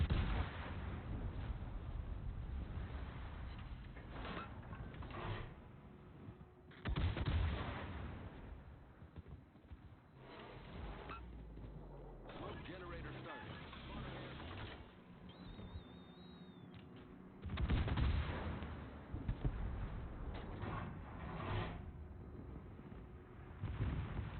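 Ship guns firing in a naval combat video game, heavy booming salvos in several bursts with rumbling mechanical noise between them, moderately loud and alone.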